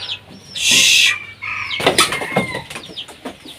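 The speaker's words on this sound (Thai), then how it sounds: "ไก่นี่มันชอบขึ้นบ้านจริงๆ" A chicken beats its wings in a loud flurry near a wooden and bamboo house, then clucks and scratches about in short irregular bursts.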